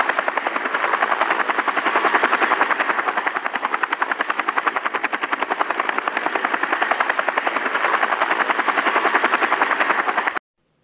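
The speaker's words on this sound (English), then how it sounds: "Helicopter." A helicopter's rotor beats in a fast, steady chop over a continuous engine whine, loud and close, holding constant for about ten seconds before stopping abruptly.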